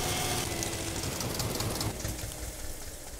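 An Eicher 241 tractor in Farming Simulator 22 chugs with a dense, knocking engine rumble that drops to a quieter hum partway through as it is shut off.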